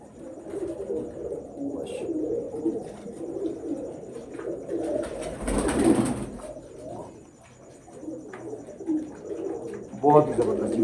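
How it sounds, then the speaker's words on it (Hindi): Pure Aliwala pigeons coo softly in a loft at a pigeon fancier's home, low murmuring calls running steadily through the clip with a louder burst midway, under someone talking. "बहुत ही प्योर अली वाला कबूतर तो हम दिखाए जा रहे हैं"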